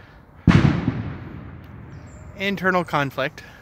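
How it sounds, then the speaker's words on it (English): A single sharp firecracker bang cracks out loudly, its echo fading over a second or so, followed by a person talking briefly. "Somebody playing with firecrackers."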